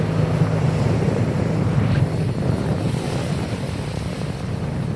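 Strong night wind roars across the open sea aboard a fishing boat, with waves surging beneath a continuous loud, buffeting rush that never lets up.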